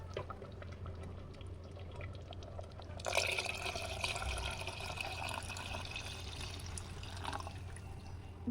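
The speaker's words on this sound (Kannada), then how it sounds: "ನೋಡಿ ಈ ನೀರನ್ನು ಹಾಕ್ತಾ ಇದ್ದೇನೆ" Water pours steadily into a cooking pot of horse gram curry with a bright, rushing splash that starts partway through and continues, over faint dripping and low background hum.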